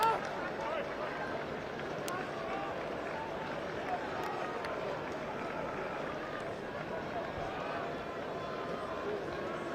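A rugby crowd at a Bath versus Dragons pre-season match roars and murmurs steadily as the ball is knocked forward, a dense, continuous stadium wash with no single standout burst.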